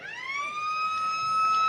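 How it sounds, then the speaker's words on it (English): A rising, sustained electronic wail sounds the end of the first quarter at a country football ground during the Mortlock league grand final between Gingin and Goomalling, steady and fairly loud with faint crowd noise beneath. "That's a siren."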